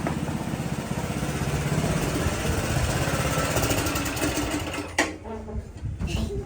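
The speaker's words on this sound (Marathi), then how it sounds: "एवढा जोरात चालवतो का ट्रॅक्टर" A tractor engine running hard at speed gives a steady, loud mechanical drone throughout, with a brief shift in tone near the end.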